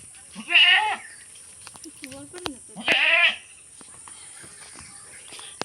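Two loud, wavering goat bleats about two seconds apart, close by, with faint rustling and scattered footsteps between them.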